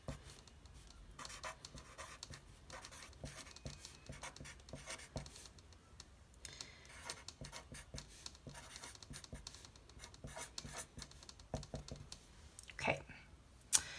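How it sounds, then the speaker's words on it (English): Numbers being written by hand while working a math practice problem, faint scratchy strokes and small taps in short irregular bursts over a quiet background. "I'll go ahead and write my perfect squares up here"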